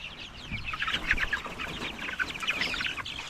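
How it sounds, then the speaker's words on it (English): A small flock of chickens clucks and murmurs in a wet barnyard, a busy, continuous run of soft clucks at moderate distance with no voices. "I did not move the chickens this morning."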